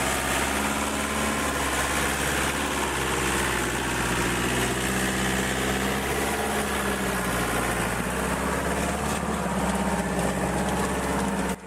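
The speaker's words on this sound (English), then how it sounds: "This is a Fiat 80-90 self-propelled tractor with a powerful grab arm loading wood onto its trailer" A Fiat 80-90 self-propelled tractor with a grab arm, wheels sunk in mud while loading wood onto its trailer, runs with a steady, continuous low diesel drone and vibration throughout, nearby and without talk.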